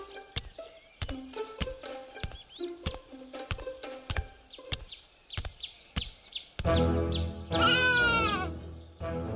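A cartoon lamb gives a loud, wavering bleat near the end, following a run of sparse plucked and clicking cartoon sound effects.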